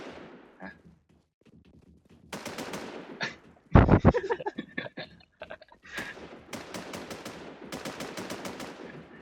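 Repeated automatic and single gunshots in the Warz Infestation zombie shooter, sharp bursts clustered in volleys with a loud close crack midway, while players talk faintly between shots.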